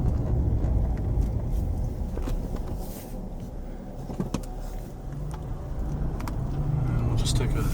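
A car driving downhill toward downtown Aliquippa, Pennsylvania, a steady rumbling road and engine drone inside the vehicle with a few small knocks and rattles, holding even throughout at moderate level.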